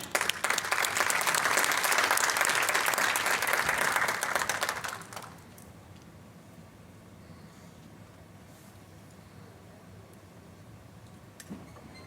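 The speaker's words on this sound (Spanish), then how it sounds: "un fuerte aplauso para ella" An audience at an education panel bursts into loud, dense applause for a speaker, sustained for about five seconds before cutting off into a quiet room hum.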